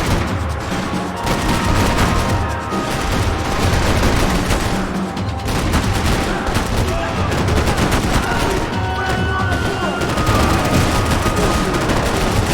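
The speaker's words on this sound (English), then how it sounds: "I can't concentrate with bullets whizzing past my head!" Dense, continuous gunfire with rapid bursts and overlapping shots during a chaotic firefight in the video game Max Payne 3, staying loud and constant throughout with no pauses.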